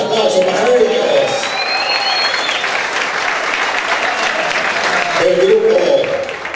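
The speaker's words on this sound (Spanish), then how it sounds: "¡Fuertes aplausos para ellos!" A dance crowd gives loud applause for the band at a live baile, mixed with whistles and shouting voices. The cheering stays strong and close throughout.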